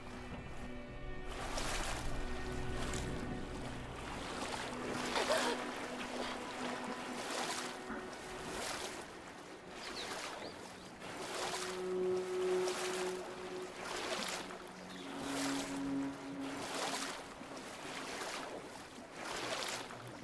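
Waves lapping and sloshing around a small boat crossing water in the game Brothers: A Tale of Two Sons, a soft continuous wash with faint musical tones underneath.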